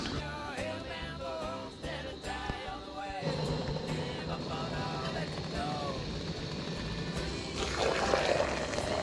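Water pours and splashes into a container outdoors to make coffee at a turkey-hunting blind on a frozen morning, a steady close stream joined by murmured talk early on.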